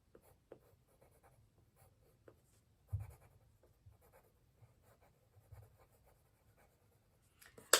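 A dark graphite pencil is pressed hard while shading a barn drawing on paper, producing faint, close scratchy strokes in short bursts with quiet gaps between them.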